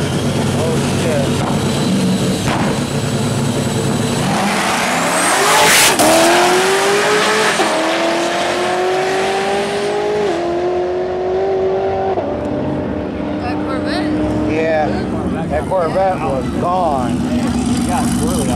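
A Corvette race car launches hard, engine roaring loud and close as the revs climb, with tire squeal and skidding as it gets squirrely on the pickup, and spectators talking and shouting over it.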